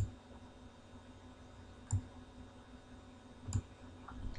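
Computer keyboard and mouse clicks while copying spreadsheet cells: a few sparse, faint clicks, two slightly sharper ones, over a low steady room hum, with no talking.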